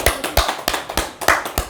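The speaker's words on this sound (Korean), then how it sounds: "우리가 박수를 한번 쳐줍시다" A small group at a Buddhist lecture claps for participants, giving a sparse run of distinct, evenly spaced hand claps close by, with no talking.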